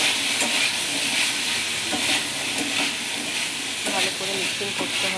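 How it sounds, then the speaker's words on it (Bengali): Boiled peas being stirred into matar paneer in a pan, with a steady close sizzle and hiss running throughout and repeated scraping clinks of the spoon in the later part. "আবার তাকে ভালো করে মিক্স করে নিচ্ছি।"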